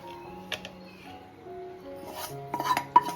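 Freshly fried kantoli (spiny gourd) being lifted from a pan onto a plate with utensils: quiet, sparse metallic clinks and scrapes, growing busier with a few sharper taps toward the end, in a calm home kitchen.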